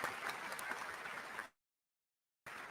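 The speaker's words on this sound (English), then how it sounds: "Could you give them a round of applause as they stand and be recognized here?" Audience applause at the SIU Carbondale 2023 spring commencement: a dense, steady wash of clapping for about a second and a half, then an abrupt dropout to total silence before the clapping cuts back in.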